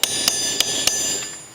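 A hammer strikes a copper lid four times at an even pace. Each blow gives a sharp metallic clang with a bright, ringing tone that lingers between the hits.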